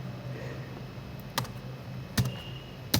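Three isolated, sharp keystrokes on a computer keyboard, spaced apart, as a captcha is entered on a login page for CUET results, over a quiet room hum with no talking.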